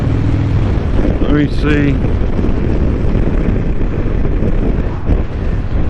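Harley-Davidson motorcycle ridden with its engine droning low under heavy wind roar buffeting the microphone, a steady loud rush throughout while someone speaks briefly.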